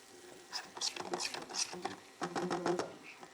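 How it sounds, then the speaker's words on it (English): Vidalia sweet onion sizzling in a hot pan for risotto, a crackling patter of bursts that comes and goes, with a short lull before it picks up again, heard close. "I'm just gonna get a good sizzle going on that."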